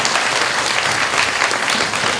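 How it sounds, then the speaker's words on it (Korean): Loud, dense applause from the audience at the close of a youth reunification debate final for elementary students, steady and continuous with no voices rising above it. "모두 끝났는데요. 힘찬 박수 한번 부탁드리겠습니다."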